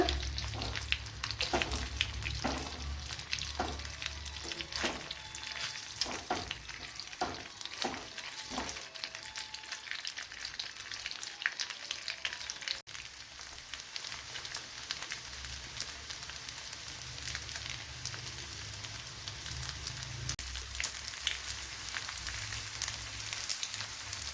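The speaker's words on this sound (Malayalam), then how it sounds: "ബട്ടറിലിട്ടൊന്ന് ഫ്രൈ ചെയ്തെടുത്തപ്പോഴത്തേന് ഈ കോലത്തിൽ കിട്ടി" Banana snacks stuffed with chicken filling fry in butter with a continuous crackling sizzle, steady and close for the full length, broken by a few soft scraping knocks early on and no voices.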